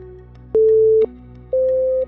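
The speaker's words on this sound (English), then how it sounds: "until you hear the next beep" Two steady electronic beep tones, each about half a second long, separated by a short pause; the second is slightly higher in pitch. No one speaks.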